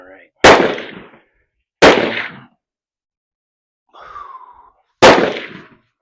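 Three sharp, loud rifle shots crack out at an outdoor shooting range, spaced a second or more apart, each with a short echoing tail, and a brief voice is heard between the second and third shots.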